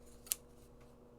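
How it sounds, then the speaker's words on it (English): A couple of quick, sharp scissor snips cutting packaging tape, close and fairly quiet, separated by a short pause against a faint hum. "And I have my handy dandy scissors helping me out."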